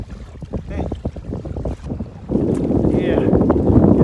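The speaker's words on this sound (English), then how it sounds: "It's pretty windy out here" Strong wind gusts roar across the microphone beside Lake Superior on a hiking trail, with a steady buffeting rumble that swells louder partway through, after some earlier brief handling noises.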